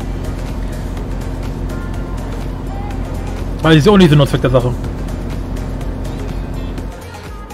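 A truck engine in American Truck Simulator drones steadily and loudly throughout, a constant low hum under someone speaking briefly in the middle.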